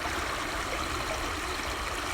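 A small stream at the edge of an abandoned water treatment works flows steadily close by, a dense unbroken rush and babble of shallow water with no voices.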